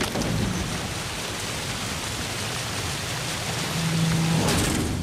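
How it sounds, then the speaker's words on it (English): Thunderstorm and heavy rain at sea in The Witcher 3, a steady loud wash of rain with deep thunder rumbles rising near the end, no talking. "Didn't bargain for no storm."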